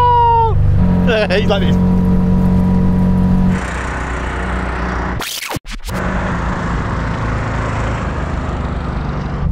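A car engine in a drag racing video game, revving high and dropping through gear changes, followed by a sharp crash-like burst and a steady engine drone, with someone speaking briefly over it.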